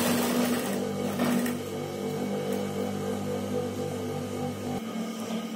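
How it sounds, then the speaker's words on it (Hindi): An electric sewing machine runs a steady stitch along the fused neckline of a garment, a continuous close motor hum and whir that stops abruptly near the end, with no voices. "फ्यूजिंग के साथ बिल्कुल किनारे किनारे पे हमने सिलाई लगानी है। और ऐसे हमने पूरे गले पे सिलाई लगा लेनी है।"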